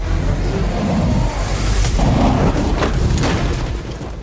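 A loud, deep explosive boom rolls into a sustained rumble with crackling bursts, heavy and close, fading slightly at the end.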